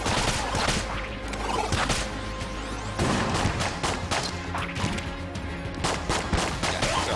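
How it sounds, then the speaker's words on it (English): Dense, continuous barrage of gunfire from a bullet bat firing bouncing shots in Enter the Gungeon, with sharp repeated bursts layered over loud game music and effects throughout. "that was a bullet bat thing. It fires bouncing shots"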